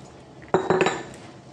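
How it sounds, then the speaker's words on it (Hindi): A few quick clinks and scrapes of a utensil against a bowl mixing pakora batter with water, a short burst of mixing sounds close by, then quiet. "आप थोड़ा थोड़ा पानी डालते जाएंगे और उसको अच्छी तरह से मिक्स कर लेंगे"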